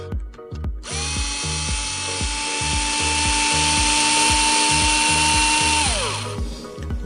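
An electric hex driver with a 2.5 mm bit spins screws out of an Arrma Talion RC car, a close high whine that winds up, holds steady for about five seconds, then spins down over a soft rhythmic ticking.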